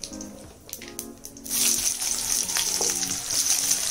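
Mustard seeds pop and splutter in hot oil for a vangibath, a brinjal rice dish. A few sharp crackles come first, then a steady, close sizzle that keeps going without any talk.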